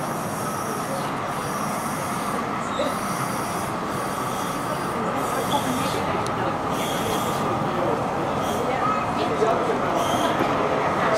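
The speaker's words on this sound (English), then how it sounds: "the train is arriving" A DSB Øresundståg train rolls into Malmö Central Station with a steady rumble, wheels squealing and rattling over the rails, loud and close, with faint voices in the background.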